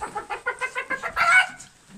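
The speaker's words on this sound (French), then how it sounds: "C'est là on voit un poulet géant." Chickens cluck inside a large, modern henhouse in a rapid, rhythmic series of close calls that swell into a louder squawk before trailing off.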